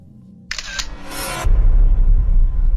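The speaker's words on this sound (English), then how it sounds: "The sound of a digital camera shutter, accompanied with a blindingly bright flash coming from an adjacent room" A digital camera shutter clicks sharply with a brief mechanical burst, followed by a heavy low rumbling thud that swells and continues loudly.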